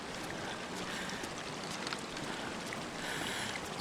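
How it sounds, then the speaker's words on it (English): Water running below the player in the video game The Long Dark, a faint, steady rushing and trickling that continues without a break. "It's the water running from below."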